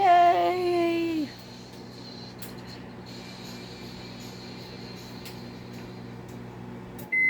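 A microwave oven heating a Hot Pocket hums steadily for several seconds, preceded by a voice and ending with a short beep or door sound; no speech over the hum.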